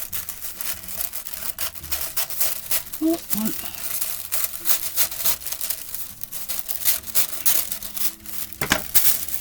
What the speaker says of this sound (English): with my fancy paper that I've got here, I'm just going to cut some strips